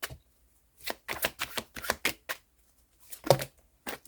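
Tarot cards riffle and slap in quick bursts as a deck is shuffled and drawn, a close, crisp flurry of separate papery strokes with short pauses between them.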